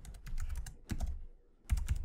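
Typing on a computer keyboard in a terminal, three close bursts of rapid key clicks separated by brief pauses, with no voice.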